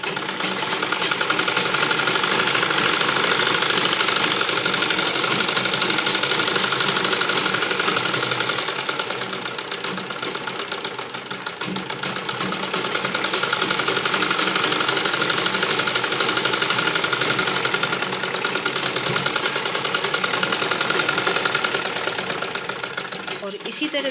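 A sewing machine runs steadily for over twenty seconds, double stitching a child's umbrella frock with bell sleeves, a dense mechanical whir with only slight dips in intensity.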